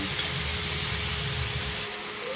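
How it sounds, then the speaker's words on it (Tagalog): Tomatoes and onion fry in a pan for salmon sinigang with a steady, close sizzling hiss that holds evenly throughout. "antayin lang natin na maluto saglit yung tomatoes at mag-brown yung onion"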